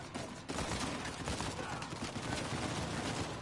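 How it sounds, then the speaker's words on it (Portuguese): Dense, continuous gunfire rattles in the video game Uncharted 4, a steady volley of overlapping shots that fills the whole stretch at moderate loudness. "estão atirando de da onde?"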